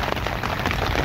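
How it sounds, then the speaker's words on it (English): Dense, steady patter of rain drumming on a tent's fabric close overhead, heard from inside the tent, a constant hiss with faint irregular taps and no voices. "Well, it is raining like a bugger now"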